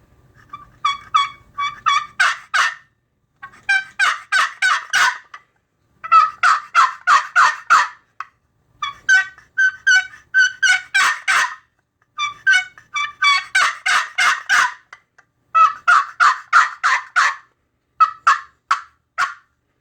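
Wooden turkey box call worked by hand to imitate a gobble, repeated in about eight loud, rapid rattling bursts separated by short pauses, close and alone with no talking.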